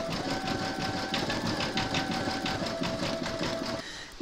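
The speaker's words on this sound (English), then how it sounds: "you're now going to stitch round number 10, and that's going to zigzag around the edge of the house" An embroidery machine zigzags a satin border around the edge of an appliqué haunted-house piece, a steady fast mechanical chatter that runs close and even before cutting off abruptly near the end.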